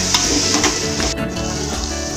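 Mint and coriander sautéing with mutton in a pan for Dindigul Thalapakatti-style mutton biryani, a loud steady sizzle close up with a few stirring scrapes.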